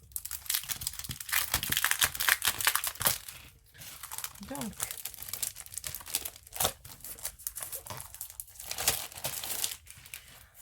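Paper sheets crinkle and rustle up close in bursts, under a person talking.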